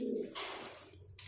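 A bandangan pigeon giving its cooing courtship call, a short low coo up close followed by rustling and scratchy movement noise.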